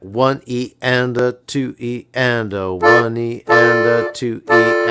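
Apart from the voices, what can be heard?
No everyday noises stand out.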